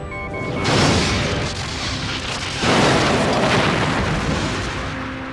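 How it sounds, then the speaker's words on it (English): A Borg cube fires on a ship in a Star Trek Borg sci-fi PC game, a loud roaring blast of energy followed by a second heavy booming explosion that sustains and slowly fades. "The Borg cube is firing."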